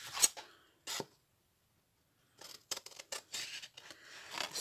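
Scissors snip the corners of paper or card in a small craft project, giving short crisp cuts in a few separate bursts with quiet gaps between them, close and soft, ending in a quicker run of snips.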